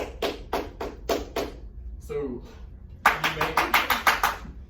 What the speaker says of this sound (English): Clap it for me.